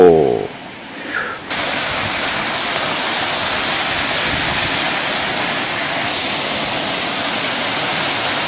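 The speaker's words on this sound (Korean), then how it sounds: "두 번째 철구 폭포" A waterfall at Juwangsan mountain roars in a dense, steady rush of falling water, loud and close, continuing alone after a brief quieter moment at the start.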